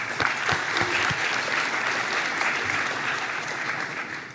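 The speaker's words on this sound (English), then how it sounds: "so just a round of applause" Steady, even applause from a conference audience at an observability event, a continuous wash of clapping throughout at moderate distance, with little talk.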